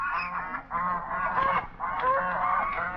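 Geese or swans honk repeatedly in a loud, close flock with overlapping calls, heard on a lake at night where swans and ducks float on the water.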